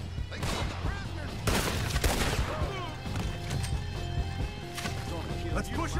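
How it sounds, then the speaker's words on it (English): Gunfire in Red Dead Redemption 2 fills a chaotic shootout, several scattered shots and a heavy burst cracking over shouting voices, with horse hooves and commotion throughout. "I'll have to shoot our way out."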